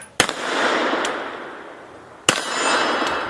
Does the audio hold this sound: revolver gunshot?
yes